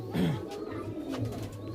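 Rampuri pigeons in a loft coo close by, a low soft burbling call that rises briefly and settles into a gentle rolling murmur.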